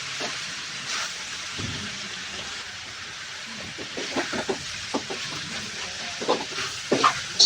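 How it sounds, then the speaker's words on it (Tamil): Green peas being stirred and sautéed in a pan give a steady soft sizzle, with sharper scraping taps from the spoon growing more frequent toward the end. "தேவையான அளவு பச்சை பட்டாணி, நல்லா கிண்டி வதங்கட்டும்"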